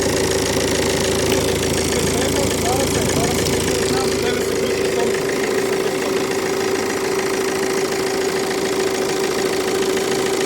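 A Peugeot 308 with a Euro 6 engine idles steadily and close by, a continuous even hum with a fixed tone and light mechanical clatter, while people talk over it.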